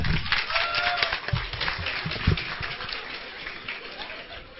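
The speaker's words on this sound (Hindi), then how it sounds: "प्रियंका जी के लिए बहुत बहुत तालियां।" Listeners at a college poetry gathering give a short round of applause after a poem, loud at first and then thinning out, with some thumps and scattered voices mixed in.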